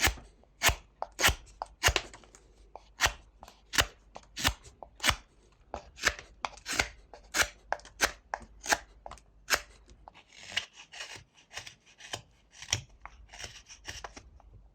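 Knife whittling wood while carving a small dove, crisp close snapping cuts in a steady rhythm of about two per second, later joined by a quieter rustling scrape.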